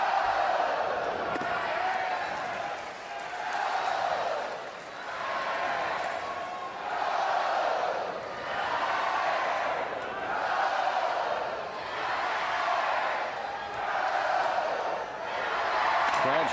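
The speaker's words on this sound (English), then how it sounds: "Crowd's really into it now." A college baseball crowd at an LSU versus Oklahoma Super Regional game chants and cheers in rhythmic waves that swell and fade every couple of seconds, steady and distant.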